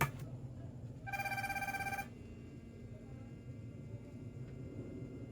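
A phone ringing with an incoming call: one bright electronic ring burst lasting about a second over a low steady rumble of room noise.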